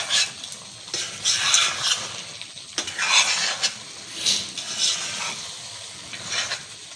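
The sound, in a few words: stirring kata kat frying in a pan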